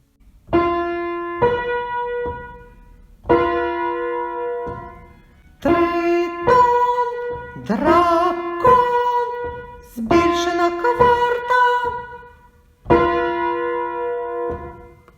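Piano-like tones sound pairs of notes forming augmented fourth intervals, harsh and tense, several distinct struck dyads ringing out one after another with short gaps, clear and alone.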